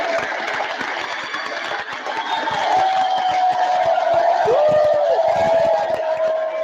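Audience applauding and cheering at a live talk show, a dense, steady wash of clapping with crowd shouts and whoops rising over it, loud and sustained throughout.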